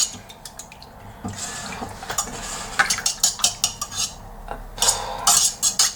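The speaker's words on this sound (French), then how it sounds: "Fouettez le tout pour avoir une texture quand même assez homogène" A whisk beats yogurt into a mixture in a bowl, rapid rhythmic scraping and clinking strokes that speed up and grow louder, close up with no talking.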